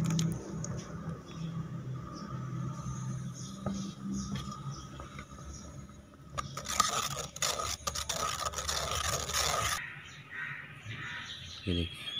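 Fresh ground orange pulp is pressed through a sieve, giving close, continuous scraping and rubbing that grows busier partway through, with a voice talking over it.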